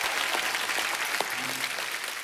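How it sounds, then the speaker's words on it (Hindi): Applause from a live comedy show audience for a guest, a dense steady patter of many clapping hands at moderate level, with a brief voice or two faintly mixed in. "जोरदार तालियां एक बार बमन सर के लिए।"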